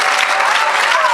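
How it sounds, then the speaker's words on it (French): A church crowd applauding and cheering for Jesus Christ, a loud, dense wash of clapping with voices rising within it, heard throughout the short clip. "Acclamez Jésus-Christ"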